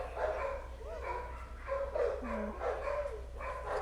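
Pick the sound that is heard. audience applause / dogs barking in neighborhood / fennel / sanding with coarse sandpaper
dogs barking in neighborhood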